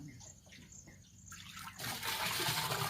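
Jaggery water poured and stirred into a jeevamrutham mix for natural farming: a soft trickle first, then a louder, steady rush of splashing liquid in the latter half, with no talk.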